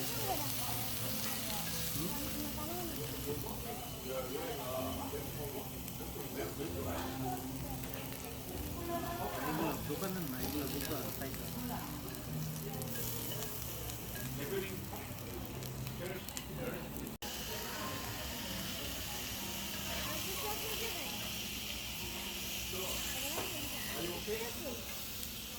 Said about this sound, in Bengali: পেঁয়াজ ভাজি নিচে সাথে মাশরুম।